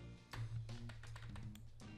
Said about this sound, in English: you can use for shortcut, press C in the keyboard